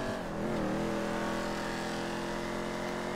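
Racing car engine in the video game GTA 5 during a lap of a circuit race, holding a steady, loud, high-revving drone with a slight pitch wobble near the start and no break throughout.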